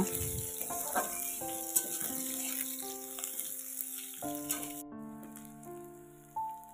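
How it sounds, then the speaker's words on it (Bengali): Green chillies and chopped onion fry in hot oil with a steady, hissing sizzle that runs beneath melodic background music and eases off near the end. "তারপরে দিয়ে দিলাম কাঁচা লঙ্কা আর পেঁয়াজ কুচি। এগুলো আমি একটু ভেজে নেব।"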